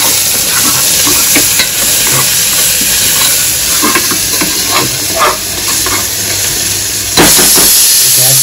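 Ginger, garlic and chilli paste spits and fries in a pan while being stirred, a loud, dense sizzle close by with repeated scrapes and knocks from the stirring and a brief surge near the end.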